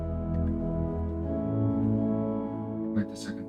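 Organ chorale prelude on a hymn tune closes with full doubled chords, sustained and resonant, a steady dense cadence holding throughout before a brief bright noise near the end.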